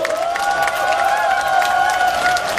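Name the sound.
audience applause at a rally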